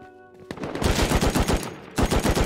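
Automatic gunfire in the video game Rust, two rapid bursts of loud, closely spaced shots separated by a brief pause, with no talking over them.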